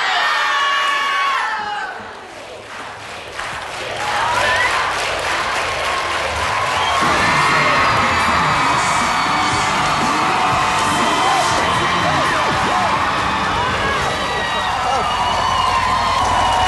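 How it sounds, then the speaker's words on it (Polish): A large studio audience claps loudly and cheers with whoops and shouts at a TV show kick-off, the sound sustained and dense, with a voice speaking over it. "Bardzo się cieszę, że głośno klaszczecie"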